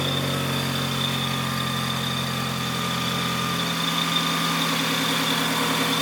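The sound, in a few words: car engine idling after start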